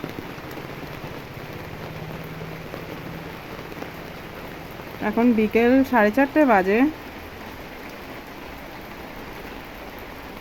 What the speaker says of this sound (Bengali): এত বৃষ্টি হচ্ছে এদিকে।